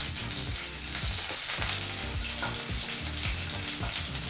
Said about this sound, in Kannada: ಹಾಗೆ ಒಗ್ಗರಣೆಗೂ ಸಹ ಸ್ವಲ್ಪ ಕರಿಬೇವಿನ ಸೊಪ್ಪನ್ನು ಹಾಕಿ 30 ಸೆಕೆಂಡ್ಗಳ ಕಾಲ ಫ್ರೈ ಮಾಡ್ಕೋಬೇಕು